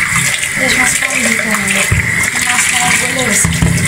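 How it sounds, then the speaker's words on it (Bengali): Chitol fish being washed with water after a salt rub, a steady close splashing and pouring of water with rubbing and handling noises throughout. "নুন দিয়ে খেসে নিচ্ছে মাছটা। মাছ যত ধুবেন তত স্বাদ হয়"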